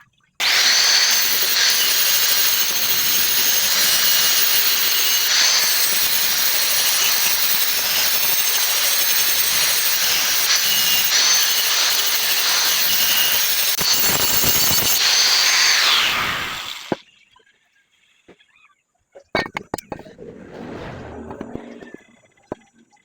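A power sander grinds steadily and loudly on a boat propeller blade under repair for about sixteen seconds, then stops, leaving scattered handling knocks and brief speech.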